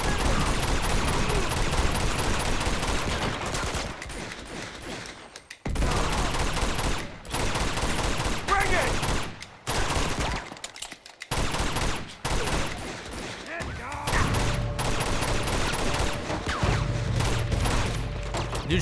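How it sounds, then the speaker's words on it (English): Dense, loud gunfire keeps bursting in the Uncharted 2 monastery level, with enemies including a shotgun-armed attacker firing at the player and the rattling volleys broken by brief gaps. "Dude's shooting me with a shotgun from a mile away."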